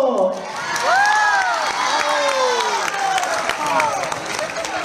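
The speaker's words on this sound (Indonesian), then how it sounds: "Kalau begitu, tepuk!" Students at a state-level school science show competition in Sabah cheer, whoop and clap together. The crowd noise is loud and lively and lasts the whole stretch, with shouted voices rising above the applause.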